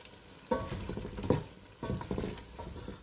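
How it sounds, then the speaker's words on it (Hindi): Lamb korma masala frying and being stirred in a pan for a shahi korma, giving bursts of close sizzle and scraping spoon strokes with short quieter gaps, no talking. "तो इसको 2-4 मिनट और जो है वो हम भूनेंगे, अच्छी तरह से इसका रंग निकल के आ जाए।"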